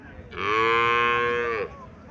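A single drawn-out moo from a heifer calf at a cattle fair, loud and close, lasting over a second against a quiet background.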